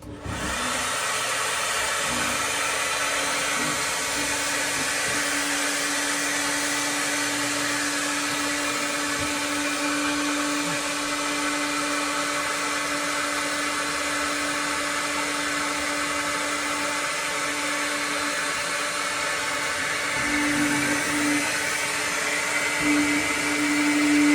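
Heat gun blowing hot air onto a temperature sensor inside a LiFePO4 wall-mount battery pack, a continuous loud whooshing roar with a steady whine, close by and unbroken throughout.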